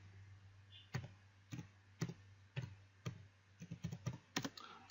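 Keystrokes on a computer keyboard typing a command, about a dozen sharp clicks in irregular bursts with short pauses, close and clear over a steady low hum.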